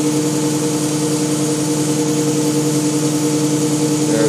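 An electric vehicle with a ZF automatic gearbox shifts into second gear, a steady mechanical whine and hum with tonal drone throughout and a slight change in pitch near the end.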